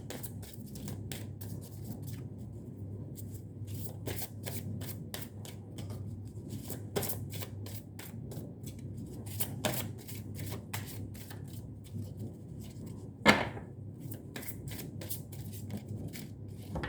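Tarot cards are shuffled by hand for a reading, giving quiet, close papery riffles and taps in a soft steady rhythm, with one sharper snap partway through.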